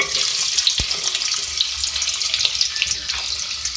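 A medium-sized onion frying in half a cup of hot oil, giving a steady bright sizzle with crackling pops throughout.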